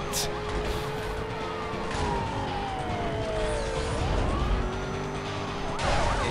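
A police siren in the video game Need for Speed: Most Wanted wails, its pitch sweeping up and down over rumbling engine and traffic noise at moderate volume.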